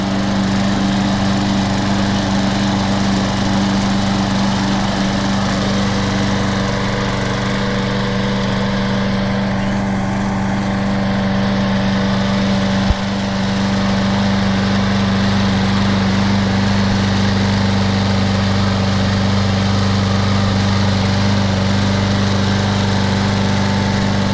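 Troy-Bilt 21-inch lawn mower with a Briggs & Stratton 675 engine and a sharpened blade runs loud and close while cutting grass, a steady droning hum with a brief thump midway.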